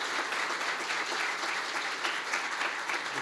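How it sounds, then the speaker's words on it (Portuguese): An audience at a lecture claps warmly to welcome a speaker on stage, a dense, even patter of many hands sustained throughout at a moderate distance. "Vamos recebê-lo, gente, com uma calorosa salva de palmas?"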